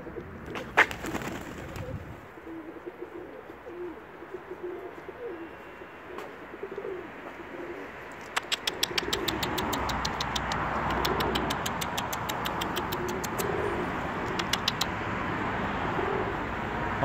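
Domestic pigeons of a tumbling, wing-clapping breed, with soft cooing and bird calls and brief sharp wing claps, all under a steady background hum, as a vehicle engine rumbles in from the middle onward.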